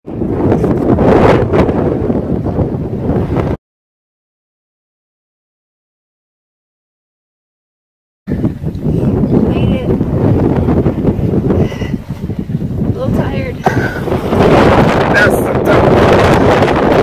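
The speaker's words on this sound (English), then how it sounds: "we're getting some pretty good wind gusts" Strong wind gusts roar and buffet the microphone on deep sand terrain, a loud, constant rumble that cuts out completely for several seconds before returning just as heavily.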